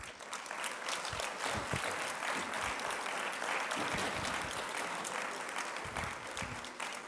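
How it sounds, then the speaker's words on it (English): Audience applause for the young award winners at a school innovation contest ceremony, a steady sustained clapping from a crowd filling the room, moderately loud throughout with no talk over it. "can you please give them a round of applause?"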